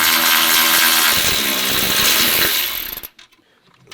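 A Milwaukee power tool rattles and whirs at full power, loosening a bolt on the emergency brake repositioning bracket of a Mercedes Sprinter van, running loud and steady for about three seconds before cutting off abruptly, leaving quiet clicks.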